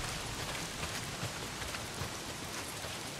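Heavy rain falls in the video game Days Gone, a dense and steady downpour hissing evenly across the whole stretch with small irregular patters on surfaces and no talk over it.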